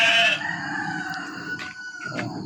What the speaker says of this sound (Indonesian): Ini ada kandang kambing, kita piara kambing ya.